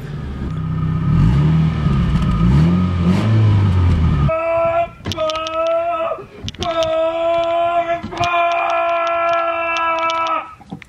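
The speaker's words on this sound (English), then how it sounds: "Let's give it a little rev." A car engine revs after a jump start, a low rising and falling drone giving way to loud sustained high-pitched tonal whines in repeated surges with short dips between.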